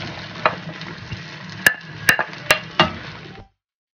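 Chopped bottle gourd (upo) hits a hot pan and is stir-fried, giving a continuous close sizzle. Several sharp metallic clinks of a utensil against the pan punctuate the frying.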